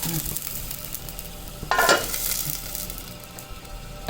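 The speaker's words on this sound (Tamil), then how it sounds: "நான்ஸ்டிக்கில் ஊற்றிருக்கேன் கொஞ்சம் வேகட்டும்" Millet dosa batter cooking on a nonstick pan, a soft steady sizzle with a brief louder burst of frying partway through and faint utensil clinks, with no talking.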